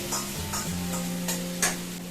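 Onions sautéing in a pan for a home-cooked cauliflower gravy, with a steady sizzle broken by a few sharp scraping stirs of a utensil against the pan, close and clear.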